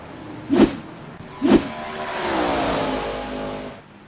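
Race car in the iRacing sim racing game braking hard and spinning out at Watkins Glen: two sharp thuds a second apart, then a rising, sustained engine and tire drone that swells and fades.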